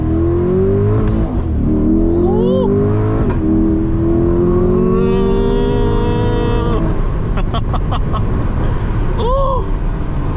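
A 500 hp Chevrolet C8 Corvette in track mode makes a loud, close first-gear acceleration pull, its engine note rising steadily with a continuous roar throughout. It finishes with quick crackles and a short shift.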